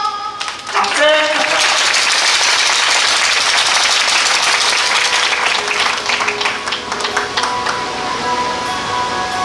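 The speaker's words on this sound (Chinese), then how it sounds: "掌声。" A crowd applauds at a Buddhist thanksgiving evening gala celebrating an island-wide blessing tour: dense, steady clapping fills the whole stretch, with voices and cheers mixed in.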